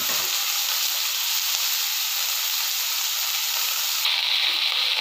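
Cauliflower florets and potatoes sizzle in hot oil over a high flame, a steady dense frying hiss that runs close and unbroken throughout.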